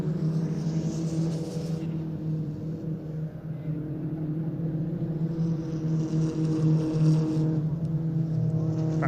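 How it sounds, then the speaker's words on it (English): Peugeot 206 GTI Cup race cars crossing in a pack at Pembrey circuit, a steady loud engine drone with revving and passing swells throughout, no voices. "Over the crossing go the leaders of the Peugeot 206 GTI Cup"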